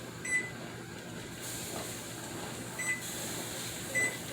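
A digital kitchen timer beeps three short times, spaced apart, over a steady background hum while pasta sauce jars are canned at a rolling boil; no one speaks.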